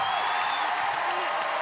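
Audience applause for a singer on a French music battle TV show, a dense steady wash of clapping from a studio crowd, loud and continuous for the brief moment.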